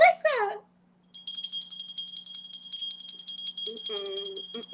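A bell rings with a sustained, steady high tone after a brief spoken phrase, with a voice returning near the end while the ringing continues underneath.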